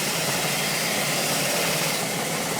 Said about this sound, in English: Now I've got my belt sander that I can sand, you know, if I wanted to sand something flat.